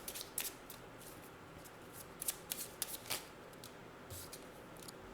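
Tarot cards are shuffled and drawn, making soft, quiet riffling and sliding rustles in scattered short bursts close by, with no talking.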